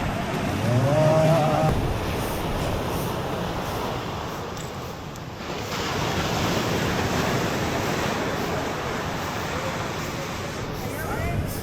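Ocean waves break heavily on a shore in Bali, a loud continuous surf roar with gusts of wind buffeting the microphone and a brief voice near the start.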